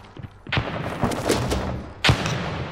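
A grenade goes off in the military shooter America's Army: Proving Grounds, a sharp nearby boom that rolls into rumble, with a second heavy blast close by about a second and a half later and faint talk in between.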